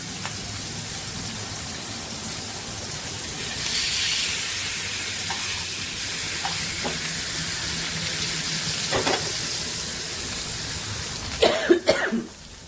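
Fish frying in oil in a pan gives a steady, close sizzle that holds throughout, with a brief cough near the end.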